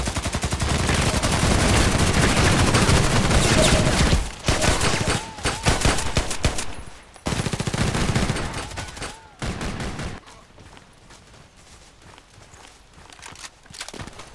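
HK USP pistol gunfire in the online shooter Contract Wars, a dense barrage of shots and game action at first, then sharper separate bursts that fade to quieter intermittent clatter and footsteps.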